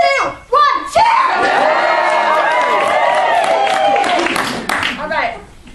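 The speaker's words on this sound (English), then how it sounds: "5, 4, 3, 2, 1, cheer!" A crowd gathered at an event bursts into loud cheering, shouting and clapping on a countdown cue, a dense roar of many voices sustained for several seconds before tapering off.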